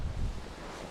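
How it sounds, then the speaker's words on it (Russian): Hurricane-force wind buffets a fishing camp in Kamchatka, a brief, heavy rumbling gust against the microphone that eases slightly toward the end. "Ветер очень сильный."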